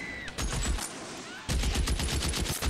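A heavy automatic rifle, a BAR, fires in the video game L.A. Noire: two loud stretches of rapid, continuous gunfire separated by a brief lull.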